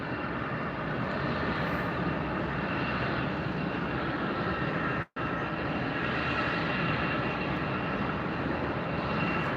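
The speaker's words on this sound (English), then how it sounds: "an Airbus 320-200 heading off to Bogota, Colombia" An Avianca Airbus A320-200, sixteen years old, departing Tampa for Bogota, heard as a steady, loud jet engine roar that holds nearly constant throughout, broken only by a single instant dropout midway.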